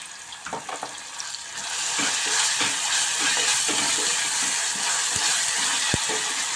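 Ginger-garlic paste, curry leaves and green chillies hit hot oil over fried onions in a pan. A few stirring scrapes are followed by a loud, steady sizzle that swells after two seconds and continues, with occasional spatula knocks and no speech.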